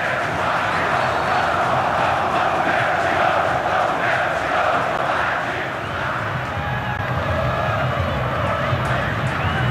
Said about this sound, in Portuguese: reage assim a torcida do Corinthians do Pacaembu